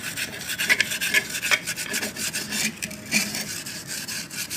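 A green scrubber scours the inside of a cooking pot used for setting curd, making a steady close rhythmic rasping of repeated strokes with no voices.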